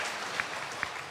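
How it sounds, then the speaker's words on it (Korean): Church congregation applauding during a Sunday worship service, a soft, distant wash of clapping with a couple of sharper claps standing out. "영광의 박수 드리겠습니다."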